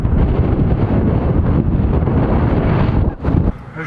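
Strong wind blows outdoors in Wales near Brecon, buffeting the microphone with loud, continuous low rumbling gusts for several seconds, with no voices heard.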